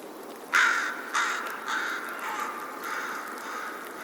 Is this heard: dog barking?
no